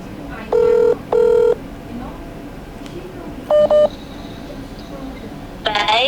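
Telephone dialing tones: two long keypad beeps in quick succession, then a short double beep and a ringing tone, loud and close over a quiet background.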